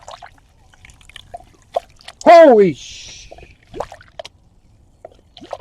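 A 2005 Nissan Murano cooling system gurgles and burps loudly during a flush, one sudden splashing, bubbling burst of coolant up close, with people talking and exclaiming around it.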